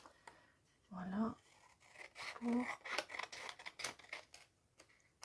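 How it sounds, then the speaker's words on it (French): Scissors snip through recycled paper labels being made into junk journal tags, a series of crisp close cuts and clicks scattered under quiet French speech. "Alors, les ciseaux."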